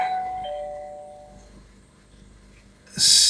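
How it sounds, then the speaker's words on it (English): A newly installed video doorbell sounds its chime when the bell button is pressed: a faint tone fades out, then a loud, bright chime bursts in near the end. "it is installed, and when I press bell on it"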